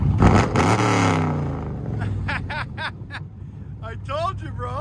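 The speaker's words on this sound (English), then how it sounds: "Chevy Camaro SS is about to start it. Let me see your face. Give it gas." A Chevy Camaro SS with long tube headers revs loudly, a deep rising engine roar at first, then lower rumbling under excited voices and laughter, with another throttle blip near the end.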